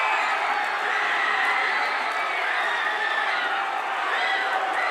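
Korean fans in New Jersey cheer a late comeback goal, a steady roar of crowd cheering that holds loud and unbroken, while a voice speaks over it.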